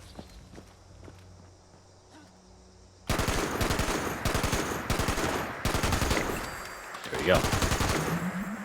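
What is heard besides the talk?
weapon firing rapidly in video game Fallout 76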